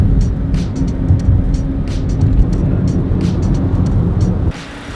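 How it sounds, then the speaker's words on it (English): A car driving on the outskirts of Dubai, a loud, steady engine and road rumble with scattered clicks and knocks, ending abruptly as it pulls up and parks. "So we've just parked up the car,"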